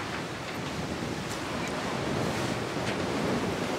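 Wind and ocean waves rush past a sailboat under sail in about 17 knots of wind with its engines off. A steady, loud, broadband roar runs unbroken throughout, with no talk.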